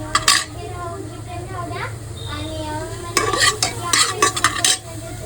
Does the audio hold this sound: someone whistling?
no